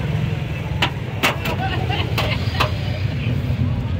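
The engine of a 2017-model auto rickshaw in Pakistan idles with a steady low rumble close by, broken by several sharp clicks and ticks.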